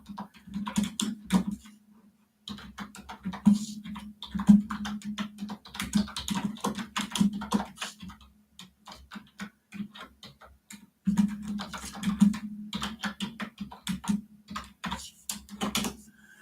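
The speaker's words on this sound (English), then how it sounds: "That's a lot of typing." Keys clatter on a computer keyboard in quick bursts of sharp, close clicks, pausing briefly between runs over a faint steady hum, with no voices.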